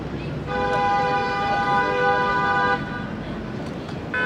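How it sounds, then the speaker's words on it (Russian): A loud, sustained car horn blares for about two seconds over a steady wash of road traffic noise from the road in front of Gyeongbokgung Palace in Seoul, with a brief honk near the end. "перебиваемую гудками и шумом автомобилей с дороги"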